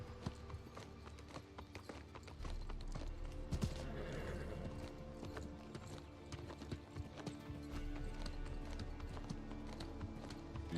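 Horse hooves galloping in a video game, a steady rapid clip-clop running throughout over a busy, dense game soundscape, fairly loud and continuous with no talk.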